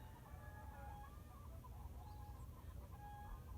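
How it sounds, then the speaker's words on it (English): Chickens cluck softly and intermittently over a steady low outdoor rumble near a garden high tunnel greenhouse, with a few higher calls rising above the murmur. "Can you hear the chickens?"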